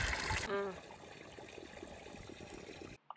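Water flowing steadily on a backpacking trip along the Continental Divide Trail, a continuous close trickling rush that runs throughout, with a brief louder burst at the start.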